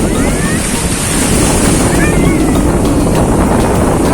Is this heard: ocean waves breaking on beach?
yes